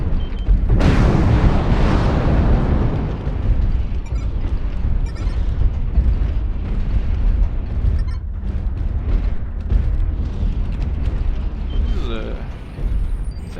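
Missile explosions boom in MechWarrior Online, a loud blast near the start followed by rumbling impacts and debris, with someone talking over the fighting.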